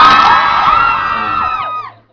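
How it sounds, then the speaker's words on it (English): Concert audience cheering loudly at a London show, a dense crowd of high shouts and whoops that holds strong for nearly two seconds, then cuts off abruptly. "Was that cheer for the song or for 15-year-olds?"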